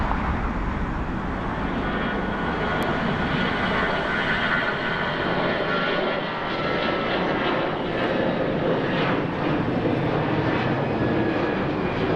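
A Hawaiian Airlines A330 airliner takes off from runway 24 left at LAX, its engines a loud, sustained broadband roar that stays steady throughout without any voices.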